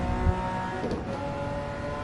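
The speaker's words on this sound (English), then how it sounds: "So, just wanted to get the motor going again." Porsche 901 Carrera RS engine in a racing video game, a sustained steady high rev with a dense buzzing drone, loud and continuous throughout.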